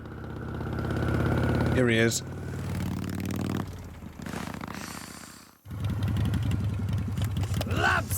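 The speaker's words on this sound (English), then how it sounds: "Oh, I hear that motorbike again." A motorbike in The Good Life video game idles with a low, throbbing purr that drops out briefly and then returns steady and close. A person speaks over it, and a brief rising voiced sound breaks in early.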